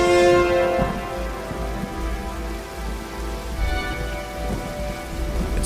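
Heavy rain with rolling thunder from the dark, neon-lit opening scene of the series Andor, a dense, steady downpour with low rumbles swelling and fading, mixed with a tonal synth music bed.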